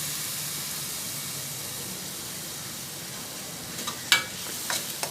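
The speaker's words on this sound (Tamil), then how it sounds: "இப்போ நான் அந்த பிளெண்டர் பண்ண தக்காளி பியூரியை சேர்த்துக்கொள்கிறேன்" Blended tomato puree hitting a hot pan for one-pot tomato rice, giving a steady broad sizzling hiss, with a few sharp clinks of a utensil near the end.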